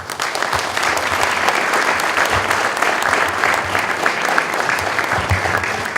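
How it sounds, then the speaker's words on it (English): A round of applause from the crowd at an Armed Forces Day ceremony, honouring a Marine veteran: a dense, sustained wash of many hands clapping at an even loudness for the whole stretch. "So I think we can give him a round of applause for that."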